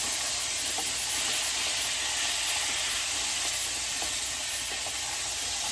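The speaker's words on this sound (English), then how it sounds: "Looking at that sizzle." Chickpeas sizzle loudly and continuously in a hot pan, a dense crackling hiss with faint scattered pops and no talking.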